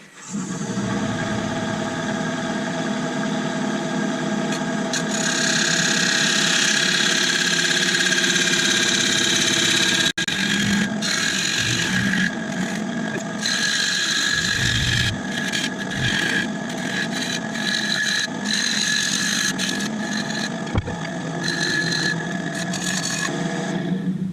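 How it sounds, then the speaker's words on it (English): Oak bowl being turned on a wood lathe with a half-inch bowl gouge: a steady motor hum under continuous rasping, scraping cuts that rise and dip as the tool works the wood, no talking. "Switched out to my 1/2 inch bowl gouge."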